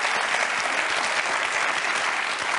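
Audience applause at a magic performance, a dense, steady wash of clapping from a full crowd that holds at an even loudness for a couple of seconds, with no talk over it.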